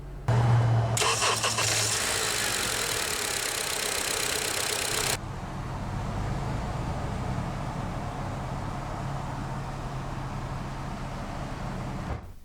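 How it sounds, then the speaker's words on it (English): A 2013 Honda CR-V EX-L AWD starts with a brief starter whir and catches, then settles into a smooth, steady idle heard from inside the cabin. "Now that we're behind the wheel, let's go ahead and start the engine."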